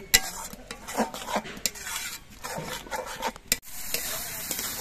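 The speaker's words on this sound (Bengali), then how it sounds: "চিনিটা দিয়ে নেড়ে চেড়ে মিশিয়ে নিতে হবে। আর এইভাবে কিন্তু কিছুক্ষণ কষিয়ে নিতে হবে।" Egg curry masala with sugar is stirred in a pan with close, uneven scraping and rubbing strokes of a spoon against the metal, and no voices.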